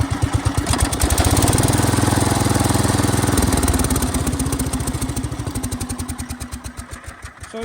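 The engine of a Wheel Horse C-160 lawn tractor starts and runs, a loud, close, rapidly thumping single-cylinder chug that surges and then settles into a steady idle.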